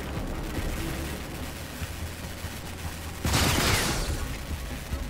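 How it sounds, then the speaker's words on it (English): Gunfire from the video game Rage as a player shoots out a camera, a steady rumbling stream of game audio broken by a loud, sharp burst of shots near the end, with no talk. "Or you just shoot the camera."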